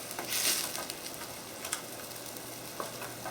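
A steak pan deglazed with chicken broth after searing makes a steady bubbling sizzle, close and fairly quiet, with small crackles throughout a short stretch and no talking.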